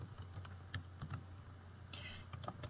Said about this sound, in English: I'm going to type in my options.